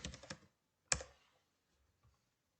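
Keys clatter on a computer keyboard as a Google search is typed: a quick close burst of rapid keystrokes, then one sharper single press and near silence.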